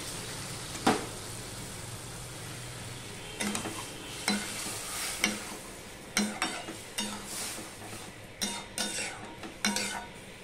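Chopped bottle gourd simmering in a pan for a vegetarian dish made without spices, with a soft continuous sizzle broken by several scraping strokes of a spoon against the pan.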